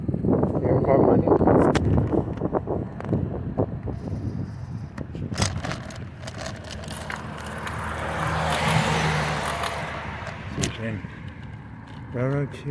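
A car rolls past from behind on the road, a broad swelling and fading rush of engine and tyre noise amid steady wind and vehicle rumble, with people talking inside the cabin.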